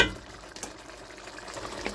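Paprika being stirred into vegetables in a pan for a red mullet and vegetable dish, a soft scraping, sizzling stir with a few brief louder scrapes and steady low bubbling, close up and with no talk.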